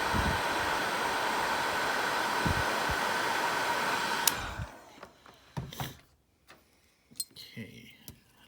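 Heat gun or hair dryer blowing hot air to soften adhesive, a loud steady whoosh for about four seconds that cuts off, followed by light clinks and handling noises.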